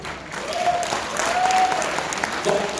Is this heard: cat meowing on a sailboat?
no